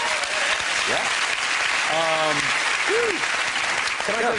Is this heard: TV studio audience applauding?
yes